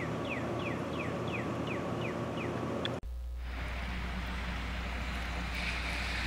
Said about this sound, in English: This is the creek over here in Silver Creek.